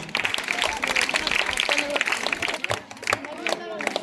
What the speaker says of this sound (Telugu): చప్పట్లు కొట్టాలని చెప్పిన నేను.